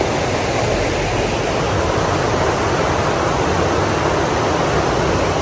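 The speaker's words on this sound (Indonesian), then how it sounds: "Nah teman-teman, sekarang kita sudah sampai di sungai." Constant broadband rush of a fairly large flowing river, close and steady, with no voices.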